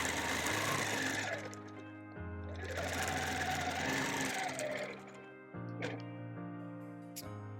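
A sewing machine stitches a quilt seam on a bird panel quilt in loud, fast, steady runs, briefly pausing and restarting, with a short burst of stitching near the end.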